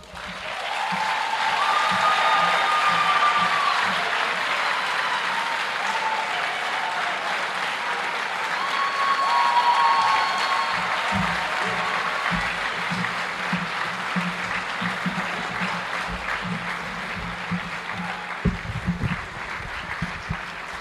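Sustained audience applause after Thabo Mbeki's Africa Day lecture, a broad steady wash of clapping that continues for the whole stretch with faint cheers on top.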